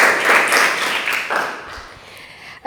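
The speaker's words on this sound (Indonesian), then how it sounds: "Tepuk tangan untuk semuanya" A class of schoolchildren applauds together in a classroom during a teaching session, a loud burst of close clapping that fades over a couple of seconds, then a short sharp noise at the end.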